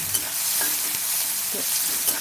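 Onion and garlic sizzle steadily in a pan for Maharashtrian methi bhaji, with a few soft stirring scrapes over the close, even frying hiss.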